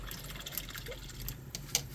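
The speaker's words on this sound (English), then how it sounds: "now I'm going to rinse out my brush" A paintbrush swishes in soapy water with soft sloshing and trickling, a faint, close rinse broken by brief splashy clicks.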